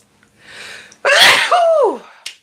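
A single loud, close sneeze with a sharp inhale before it and a trailing exhale.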